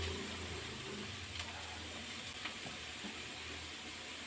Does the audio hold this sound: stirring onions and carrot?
yes